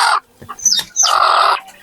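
Egg-laying hens on a quail and chicken farm cluck loudly and close by in two short bursts, a brief call and then a longer drawn-out squawk.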